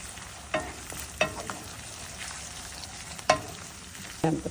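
Egg and mango pickle being stirred and fried in a pan, with a sizzle running under four sharp utensil scrapes spaced about a second apart.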